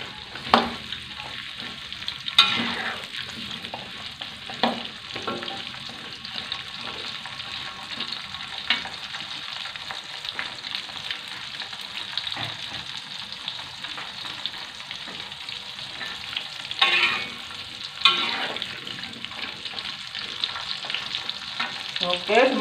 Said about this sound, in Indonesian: Saya akan goreng jering ya sahabatku.